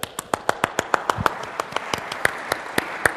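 Audience applause at a Tech·Ed North America 2011 conference session, a small group clapping with distinct, fairly even claps in a quick rhythm, moderately quiet and without talk.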